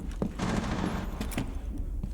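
Gunfire bursts in Rainbow Six during a US Nationals 2019 esports match, several sharp shots and a rapid fusillade over dense in-game noise and crowd-like background.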